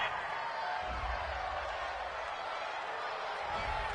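Home crowd noise from a PS4 football video game, a steady broadband roar of a stadium crowd reacting to a penalty call on third down, moderately loud and continuous throughout.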